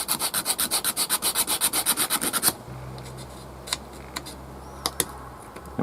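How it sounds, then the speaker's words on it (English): Wooden parts of a hand crank generator kit are sanded by hand with quick, rhythmic back-and-forth rasping strokes for a couple of seconds, then a hum and a few light taps and clicks follow. "I'm just going to give these a bit of a sanding off"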